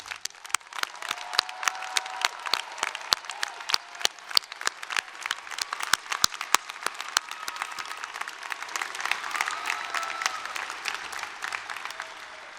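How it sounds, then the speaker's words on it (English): A large audience at a university winter commencement applauds the graduates, a steady, sustained patter of many hands heard from some distance, with a few louder individual claps standing out and no speech. "So please join me in one more round of applause for today's graduates."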